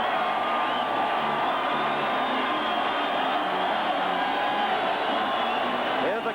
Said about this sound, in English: Hear the crowd screaming